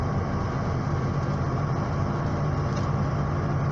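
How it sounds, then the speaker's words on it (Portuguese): A Volvo bus engine runs with its third-stage engine brake engaged at about 2000 rpm while descending an Andes mountain road near 80 km/h, giving a steady, loud, low droning roar with no breaks. "freio motor ligado, terceiro estágio do freio motor do Volvo"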